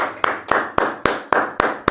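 Seven sharp, evenly spaced claps at a steady rhythm, close and fairly loud, with no voices.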